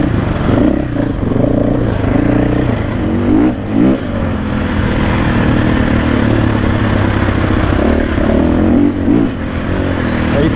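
KTM 500 EXC-F 2024 enduro motorcycle ridden on a Randoccitane trail ride, its four-stroke engine droning loud and close without a break, with clattering over rough ground and brief throttle swells.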